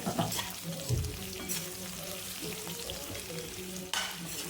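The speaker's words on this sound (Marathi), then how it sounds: "ह्यामध्ये आपण आता मिरची परतून घेऊया" Green chillies sautéed in a pan for a fasting-day varai rice and peanut amti, a close sizzle with scraping stirs and a couple of sharper bursts as the pan is worked.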